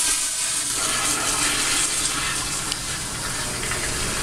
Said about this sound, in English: you guys are fighting over a fish flushing down the toilet